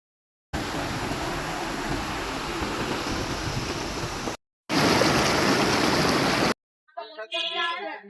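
Rushing water at the Dhangar waterfall makes a dense, steady roar for several seconds, drops out briefly, then returns just as loud before it stops and a voice speaks faintly near the end.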